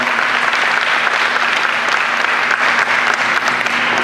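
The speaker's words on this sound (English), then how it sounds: "I want to give the Sumter School District employees a round of applause" A school board meeting crowd gives a loud, sustained round of applause for district employees, dense clapping running unbroken from start to finish over a low steady hum in the room.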